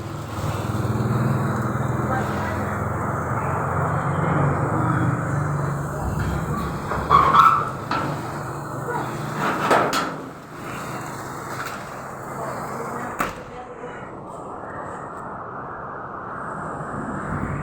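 Strong storm wind roars outside a shut-door house in Tambulilid, Ormoc City, during heavy rain, a steady broadband rush with a few louder gusts midway.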